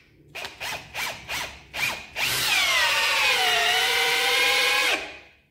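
An Ozito 18V 60Nm brushless hammer drill boring a 4-inch (100 mm) hole gives several short revving bursts, then a long, loud whine that drops in pitch under load before cutting off abruptly.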